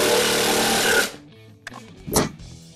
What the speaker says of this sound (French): Ça, c'est la scie sauteuse Parkside